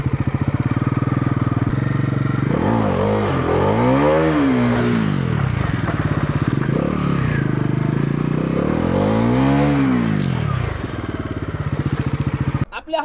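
Bajaj Pulsar 400 motorcycle engine revving, a loud close rumble that swells through two rising-and-falling throttle sweeps over a steady idle, with a voice talking over it.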